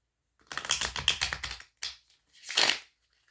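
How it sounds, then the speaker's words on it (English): Oracle cards being shuffled by hand, a quick rapid riffle of papery flicks followed by a short pause and one more brief burst, close up with no talking. "give one more shuffle of cards"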